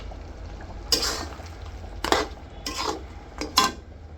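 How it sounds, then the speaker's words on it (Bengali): Mung dal and fish heads being stirred in a metal pot, heard as a few distinct clinks and scrapes of a spoon against the pot in short bursts over a quiet background. "আমি এখন মুগের ডালগুলো দিয়ে এগুলো ভালোভাবে আগে কষে নেব।"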